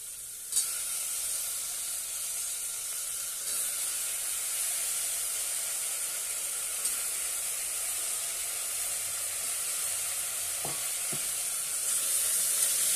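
Chopped eggplant sautéing in a pan for vangi bhat, a steady hissing sizzle that holds evenly throughout, close up, with a sudden knock at the start and a couple of faint utensil taps near the end.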